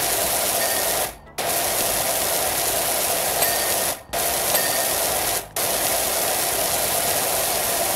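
Steady broadband hiss of a power washer spraying stone cleaner over rocks in a power washing simulator game, running continuously with three brief cutoffs where the spray stops, loud and close with no talk.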